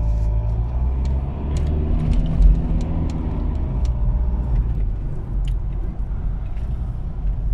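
Steady road traffic rolls by near the Blackpool illuminations, a continuous low rumble of cars with occasional brighter clicks and a swell of passing engines, fairly close.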